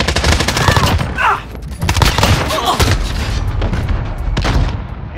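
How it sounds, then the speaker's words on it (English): Rapid bursts of gunfire and booms in a Call of Duty Modern Warfare match, loud and dense for the whole stretch, with game voice callouts mixed in. "They're shooting at me."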